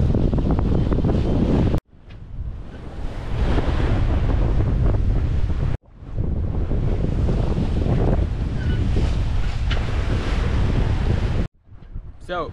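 Strong wind and ocean waves roar over a sailboat crossing the Pacific alone in wind of about 12 to 15 knots. The rushing and buffeting is loud and close, broken by two brief cuts.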